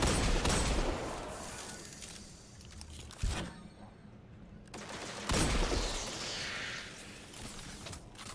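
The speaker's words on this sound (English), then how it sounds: "Those little tracer shots." Tracer gunfire shots in Destiny 2 inside a Lost Sector, a few loud bursts separated by quieter gaps and mixed with game effects, with faint speech under the action.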